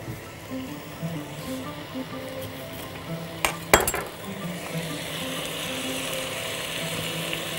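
Green bell peppers and hot chilies stirred in a pan, with a low steady sizzle and a burst of clinking metal against the pan midway, then the frying carries on evenly.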